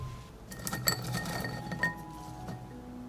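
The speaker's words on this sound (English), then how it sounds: "I put the beets in the blender." Beet pieces dropped into a blender jar, giving soft clinks and light taps against glass, close and fairly quiet.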